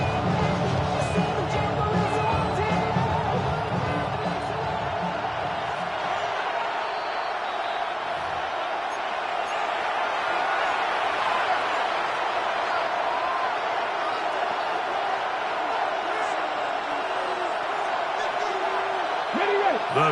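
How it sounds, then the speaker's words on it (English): A stadium crowd in the video game Madden 26 roars in a sustained, swelling wash of cheering before a third-and-long play, with game sounds underneath. "The crowd cranking it up another notch before third and long"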